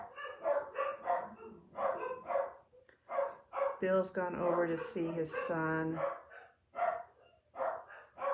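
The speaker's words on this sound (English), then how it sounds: "So it's just me and the barking dogs." Someone talks at home while dogs bark nearby, with a sustained run of loud, repeated barking and yelping in the middle and more barks breaking in between her phrases.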